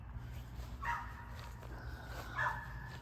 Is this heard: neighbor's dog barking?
yes